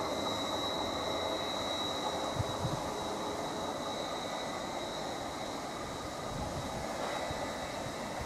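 A Class 755 train pulls away from Needham Market station towards Ipswich, a steady rumbling roll of wheels on rail with a high whine, constant and fairly close.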